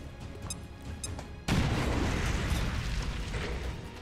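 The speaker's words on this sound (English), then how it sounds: "Grenade out." A grenade goes off in XCOM: Chimera Squad: a sudden loud blast cuts through quieter game ambience with a few small clicks, then a broad rumbling roar lingers and slowly fades.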